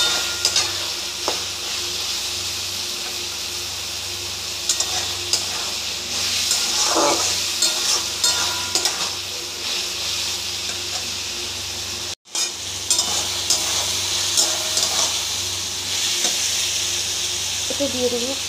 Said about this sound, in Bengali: আর একটু বেশি করে তেল দিয়ে দিয়েছি যাতে চাউমিনগুলো ভাজা যায়